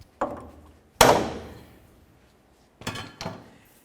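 Four sharp metallic strikes as a hammer hits the steering linkage bar while replacing the idler arm on a 1999-2007 Chevy Silverado, blows ringing briefly after each, the loudest near the middle, with quiet gaps between.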